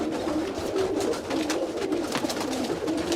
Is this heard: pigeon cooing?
yes